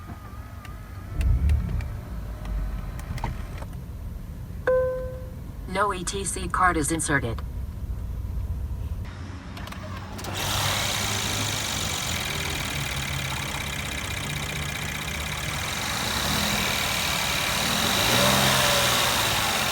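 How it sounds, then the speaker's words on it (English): Engine of a 2014 Mercedes-Benz S400 hybrid with a 3.5 engine starting up after a beep and brief chime, then idling steadily and rising slightly at the end, heard alongside a spoken in-car announcement. "Now let us start up the engine."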